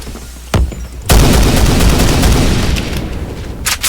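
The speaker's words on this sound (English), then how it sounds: "I tap fire at range." Rapid bursts of AUG rifle fire in the video game Phantom Forces, a couple of isolated shots followed by a loud, sustained volley, then another short burst at the end.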